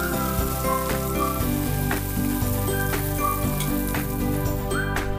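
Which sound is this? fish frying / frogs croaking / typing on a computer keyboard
fish frying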